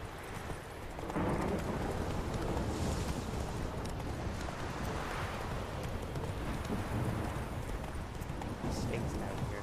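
Horse hooves clip-clopping in a steady, continuous rhythm across most of the stretch, accompanied by constant rushing wind noise.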